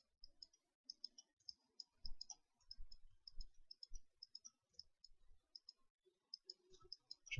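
Computer mouse buttons clicking while modeling in Maya, a quiet, close series of sharp clicks in irregular bursts, sometimes rapid runs, with faint desk knocks and no talk.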